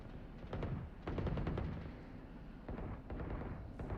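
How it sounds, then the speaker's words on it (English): Gunfire from the Valorant video game during a wallbang headshot in a tournament match, heard as repeated sharp shots in quick bursts with a loud, dense body throughout and a brief pause near the middle. "He's gonna take down a wall with a wallbang headshot."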